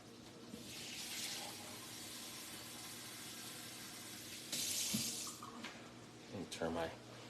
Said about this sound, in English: I'm gonna add some water in here.